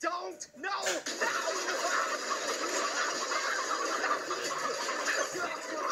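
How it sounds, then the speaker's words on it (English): Dense, busy clucking from a crowd of chickens in a video game, steady and loud throughout, with a brief scattered burst of clucks at the start. "Dump 1 million chickens on Pear."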